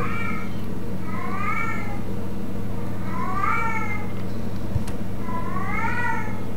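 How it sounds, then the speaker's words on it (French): A cat meows three times, each call a drawn-out, rising-and-falling cry at an even pace, over a steady low indoor hum. "Ça, c'est le chat"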